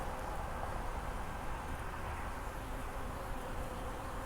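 Dense, steady buzz of many honey bees swarming over a nearly empty hive frame late in the season, close and continuous with no voices.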